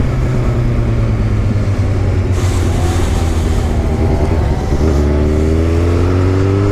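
A Yamaha FZ-09 motorcycle being ridden, its engine loud and close with a steady drone that shifts pitch, revving and changing gears amid constant wind rush.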